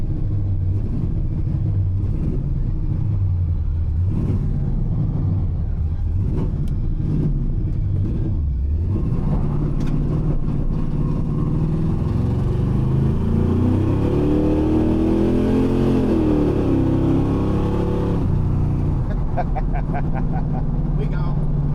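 A Pontiac Firebird accelerating hard, its engine rumble rising and revving up through gears in a long pull heard from inside the car, with people talking over it.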